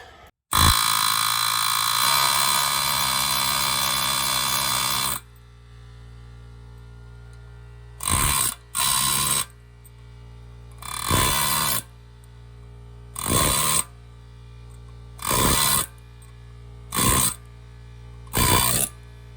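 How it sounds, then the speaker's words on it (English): An air hammer working on a car's ball joint: a long loud mechanical blast for several seconds, then a series of short sharp pneumatic bursts in a steady on-off pattern. "let's go ahead and get the air hammer"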